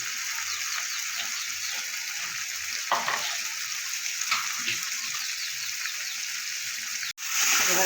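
Onions frying in a pan of oil and spices for an egg curry, a steady close sizzle with crackles and occasional stirring scrapes, a brief dropout near the end as the sizzle briefly cuts before returning.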